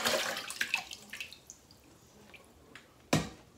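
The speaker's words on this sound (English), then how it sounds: "Got everything mixed up. About to pour it into my bucket." Turkey brine mixture poured into a bucket for a smoked Thanksgiving turkey, a quiet liquid splash and trickle with scattered drips, then one sharp louder splash near the end, no talking.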